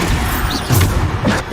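Heavy magical blast impacts from the Bombarda spell in Hogwarts Legacy combat, a dense run of booming thuds and crashes repeating loudly over busy battle noise.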